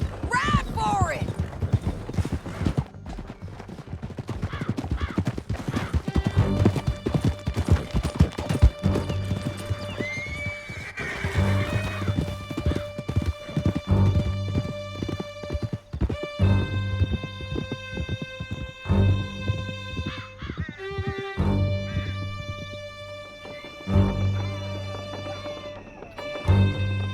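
Horses in Red Dead Redemption 2 gallop through a canyon with steady clip-clop hoofbeats and an occasional whinny, set against a loud game score and spoken dialogue.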